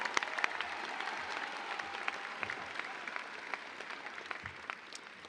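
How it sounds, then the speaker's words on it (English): A high school graduation crowd at Urbana applauds its speakers, a broad, even wash of many hands clapping at a moderate distance, sustained throughout with slight fading toward the end. "can I get a round of applause for all of our speakers tonight?"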